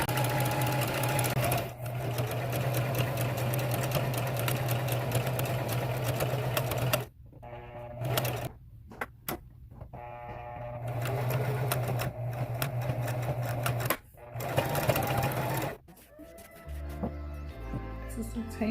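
Sewing machine stitching fabric panels together for a table runner, running steadily in long bursts with a few brief pauses between stitching runs, close and fairly loud.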